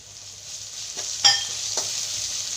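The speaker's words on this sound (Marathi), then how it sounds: "आपण त्यामध्ये आहे ना आता अद्रक लसूणची पेस्ट टाकू हे बघा" Ginger garlic paste stirred into hot oil with onion for egg biryani, giving a soft steady sizzle broken by a few light scraping clinks of the spoon, close up and with nobody talking.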